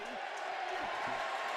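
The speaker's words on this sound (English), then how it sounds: "you can hear from the roar from the crowd that one has gone through" A stadium crowd at a rugby league match, Featherstone against York City Knights, roars steadily after a conversion kick goes through, heard at a distance beneath a commentator's voice.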